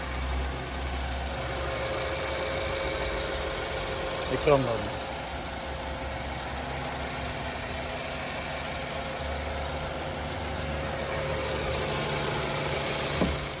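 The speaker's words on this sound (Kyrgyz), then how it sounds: "Honda Accord мотору ушундай." A Honda Accord engine idles with a steady, even hum throughout, joined by a brief clunk partway through. Someone talks over the running motor.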